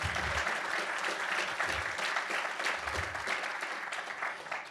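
A room full of attendees at a civic data event applauds steadily, a thick, even crackle of clapping that eases slightly near the close.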